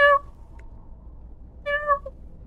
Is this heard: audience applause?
no